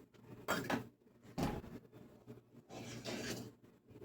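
Orange zest and sugar being added to a non-stick saucepan, heard as a few soft clinks and scraping rustles of utensil against the pan in short bursts, quiet and close.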